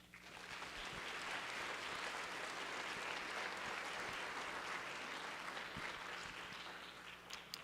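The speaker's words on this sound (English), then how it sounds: "If we can give them a round of applause." Steady applause fills a legislative House chamber in Hawaii for staff being recognized on the session's final day, an even wash of many hands clapping that holds throughout and trails off only slightly at the end.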